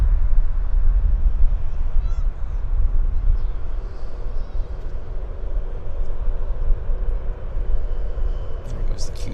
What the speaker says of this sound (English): There goes the Q400.